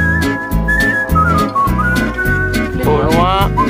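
A person whistles a tune while mountain biking, with a bright melody running over steady rumbling wind and ride noise that stays loud throughout.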